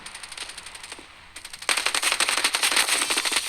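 Automatic gunfire in the mobile shooter Standoff 2: rapid rattling bursts, loud and close, with a brief pause before a denser sustained volley.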